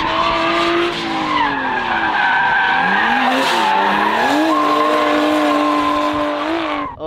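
A Nissan Skyline R32 drifting on a track, tires squealing loudly and continuously with a wavering pitch as the engine howls underneath, close and sustained until an abrupt drop at the end.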